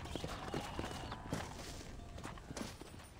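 Horse hooves clip-clopping in Red Dead Redemption, a steady walking rhythm of soft hoof strikes under a busy, faint ambient background.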